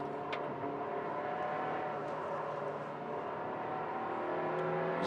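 A 4,400 cc race car engine at full cry around the Mugello circuit during a Trofeo Pirelli round, its loud, continuous roar holding steady with slight swells in pitch throughout.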